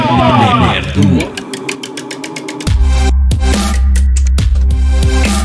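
A short, punchy music jingle with a heavy low bass entering midway, steady rhythmic beats and layered processed vocal bursts, loud and close.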